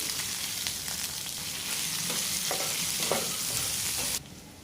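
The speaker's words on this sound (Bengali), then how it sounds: "পাঁচ ফোড়নটা একটু ভাজা ভাজা হয়ে গেছে পেঁয়াজ কুচি দিয়ে দেবো" Chopped onion sizzles in hot oil with panch phoron spices in a home kitchen, a steady close frying hiss with a few stirring scrapes before it suddenly drops away near the end.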